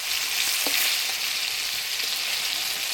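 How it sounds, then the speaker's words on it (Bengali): Desi magur catfish frying in hot oil, giving a steady, close hiss of sizzling with a few faint pops, no voices. "মাছটা ভাজে নিলাম"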